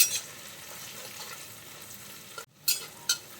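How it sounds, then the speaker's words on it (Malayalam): Ginger and garlic sautéing in a pan for a Kerala-style buffalo meat fry, a steady soft sizzle with stirring, broken near the end by a brief gap and a couple of sharper utensil scrapes. "പിന്നെ ഇഞ്ചി വെളുത്തുള്ളി. നമുക്ക് നന്നായിട്ട് ഒന്ന് വഴറ്റിയെടുക്കാം."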